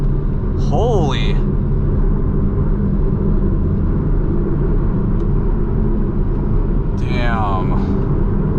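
A Porsche 911 Turbo S engine passes by as a heavy, continuous low rumble that stays loud the whole time, while voices exclaim briefly near the start and again near the end.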